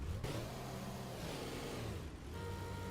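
A car engine in the racing video game Rennsport revs hard, a loud, close, continuous roar that rises and dips briefly before surging again.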